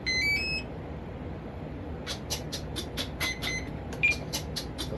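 An electronic speed controller in a Kavan Bristell B23 RC plane gives high, clear startup beeps: two short tones first, then a steady run of quick, evenly spaced beeps over a low background hum.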